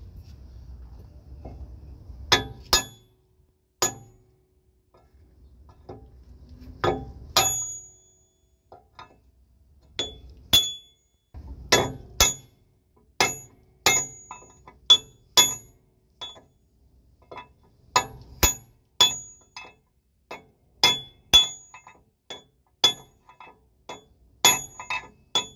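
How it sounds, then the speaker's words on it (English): An old S-cam is used as a drift to hammer a bushing out of a semi trailer, giving sharp metallic clanks at irregular intervals that grow quicker and more frequent toward the end, with quiet gaps between strikes. "we're gonna be hitting it with this old S-Cam"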